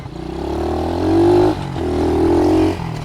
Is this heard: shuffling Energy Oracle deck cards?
no